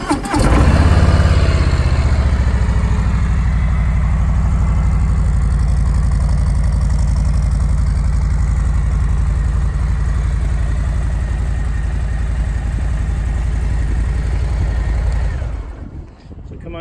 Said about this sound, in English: I'll start this bike so you can hear it go.